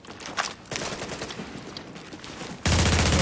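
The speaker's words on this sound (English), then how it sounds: "I'll just shoot your pack. Oh, and I'll shoot it once, I guess." Rapid gunfire bursts from The Division video game, several sharp shots in quick succession followed by a sudden loud sustained blast at the end, with no talking.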